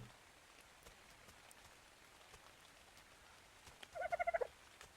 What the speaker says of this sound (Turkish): Yavru dodo. Dodo sürüsü.